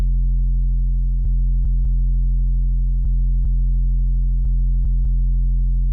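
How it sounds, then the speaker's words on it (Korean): An original, unprocessed 808 bass plays alone as a deep, steady sub-bass drone that is re-triggered several times with soft clicks at irregular points, loud and close. "일단 기본적으로 808 소리가 있는데 한번 들어보겠습니다"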